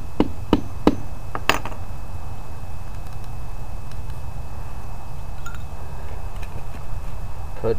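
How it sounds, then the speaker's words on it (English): Black powder being tamped with a hammer into a homemade firework fountain tube; a few sharp, close knocks early on, then quieter scraping over a steady background hum. "and hammer it down"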